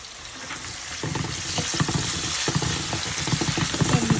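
Shrimp frying in a pan, a steady loud sizzle with quick crackles and pops as the pieces are stirred and moved about, growing slightly busier toward the end.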